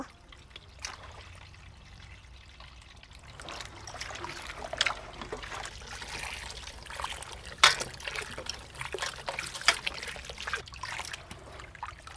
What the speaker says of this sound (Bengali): এখন এই যে মাটি আছে, এই ধুয়ে দিয়ে এই মাটিগুলি ছাড়িয়ে নেব